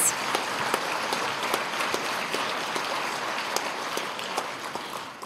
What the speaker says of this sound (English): let's have a round of applause for our students who achieved honors in 3 classes